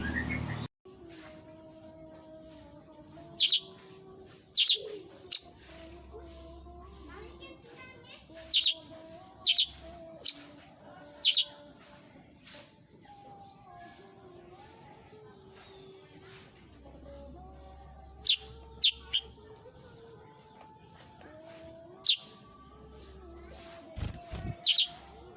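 Rare color-mutation forest bird chirping in short, bright bursts repeated every few seconds, moderately close, over a steady outdoor background with faint distant voices.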